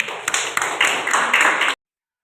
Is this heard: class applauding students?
yes